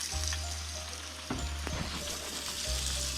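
Grated potato for a giant rosti hash brown is spooned into hot oil in a pan inside a van, giving a loud, steady close sizzle with brief scraping spoon taps.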